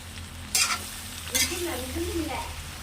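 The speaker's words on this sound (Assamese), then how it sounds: "এইফালে গাহৰি ভাজি আছোঁ" Pork frying in a pan with two sharp stirring scrapes, a steady sizzle running underneath, and a faint voice murmuring in the background.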